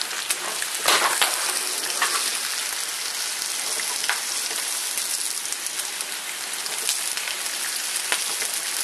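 Pre-cooked turkey bacon frying in a pan, a dense continuous sizzle with crackling pops and brief louder spits, close and alone without talk.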